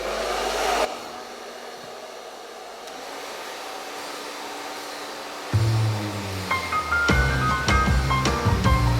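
A blow dryer whirs with a steady, airy drone that shifts in pitch and intensity, joined later by clattering handling noises.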